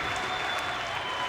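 A large wrestling arena crowd applauds in a dense, continuous wash of clapping that fills the room, with faint voices mixed in.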